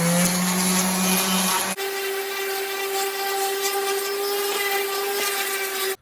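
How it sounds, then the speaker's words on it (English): A power sander strips black paint from a wooden perpetual calendar, producing a loud, steady whine that keeps running without a break. Partway through, the pitch and tone shift slightly as the sander presses into the wood. "So next I'm going to sand off the rest of this black, and then that should expose the lettering"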